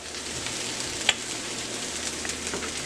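Soy sauce hitting a hot pan of shrimp fried rice, giving a steady, moderate sizzle with a brief sharp crackle partway through and no talking.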